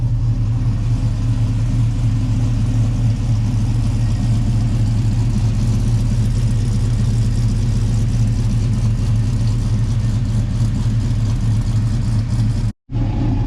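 A pickup truck engine runs steadily after being started by hand, a loud, close, continuous low rumble that idles evenly with no talk, cutting out briefly near the end.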